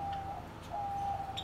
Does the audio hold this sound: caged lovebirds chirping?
yes